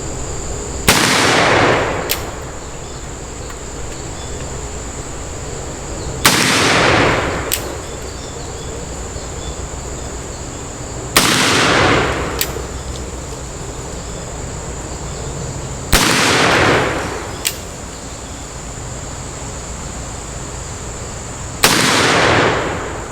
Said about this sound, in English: I'm just going to put 6 rounds down there and see where it groups.